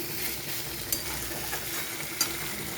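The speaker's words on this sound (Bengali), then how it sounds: "এইভাবে কিছুক্ষণ কষিয়ে নিই" Bitter gourd and potato pieces sauté in a pan with a steady, close sizzle and a few soft clicks of a spatula stirring.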